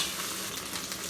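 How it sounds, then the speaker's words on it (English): Chopped onion, garlic, ginger and pepper sizzle in a hot pan, a steady, dense frying hiss heard up close for a brief moment with no speech. "we're now going to put our onion, garlic, ginger, and pepper. Then we're going to mix."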